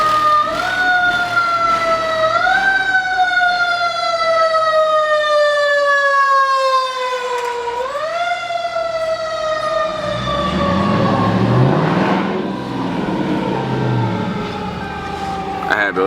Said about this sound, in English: I had to let the fire truck go